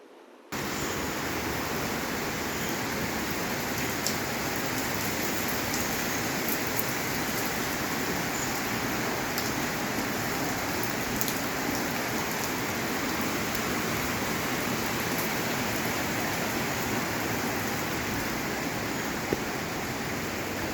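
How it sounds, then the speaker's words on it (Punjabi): Heavy rain falls steadily in the morning, a dense, even roar of downpour close by that runs without pause for the whole stretch, with no voices. "ਬਾਰਿਸ਼ ਬਹੁਤ ਹੋ ਰਹੀ ਹੈ"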